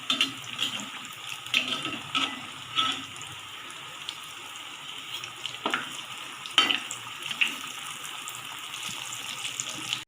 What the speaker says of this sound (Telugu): ఇప్పుడు మనం డీప్ ఫ్రైకి సరిపడా ఆయిల్ని తీసుకొని వీటిని ఫ్రై చేసుకుందాం.